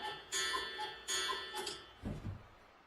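A pendulum clock ticks on a theatre stage during a play, giving a few sharp, irregular ticks followed by a softer low knock.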